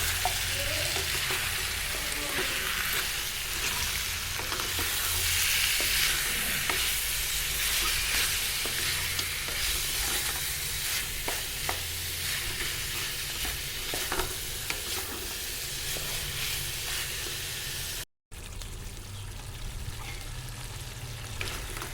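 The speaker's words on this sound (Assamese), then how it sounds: "এতিয়া এইখিনি মই এফালৰ পৰা ভালকৈ লৰাই যাম।" Assamese-style local chicken curry frying with chili powder in a pan, a continuous loud sizzle with a low rumbling undertone and intermittent scraping as it is stirred, briefly cutting out near the end before resuming.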